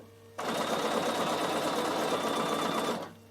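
A Bernina sewing machine stitches a zigzag during wool appliqué work, a close, steady, loud motor whir with rapid needle chatter running for about two and a half seconds before stopping.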